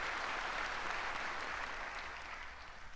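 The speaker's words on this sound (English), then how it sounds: "Please give us a big round of applause." An audience at a March 1st Movement anniversary ceremony in Korea gives sustained applause, a thick continuous wash of clapping that tapers slightly toward the end.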